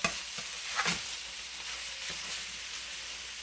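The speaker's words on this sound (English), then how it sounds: "You have to have something that will scrape the bottom of the pan to make sure that it does not burn or stick too much." A spatula scrapes and stirs rice across the bottom of a frying pan, giving soft scraping strokes over a constant faint sizzle; no voices.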